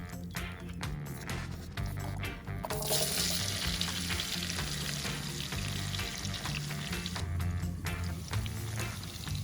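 Onions sizzle in bacon grease in an iron skillet set on an outdoor grill, a steady loud frying hiss with scraping and stirring clatter throughout.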